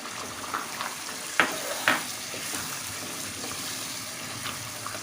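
Meat and potato curry (aloo gosht) frying in a pot, with water poured in, producing a steady close sizzle and a couple of sharp splashing bursts early on, then continued even frying hiss.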